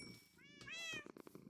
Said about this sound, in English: Meow. Oh, I love the sound.